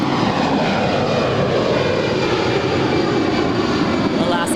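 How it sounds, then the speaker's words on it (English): An 11-year-old Alaska Airlines A320 departs LAX bound for Seattle, a steady, loud roar of jet engines with a broad rushing whine. "Alaska 525 off to Seattle. 11-year-old A320."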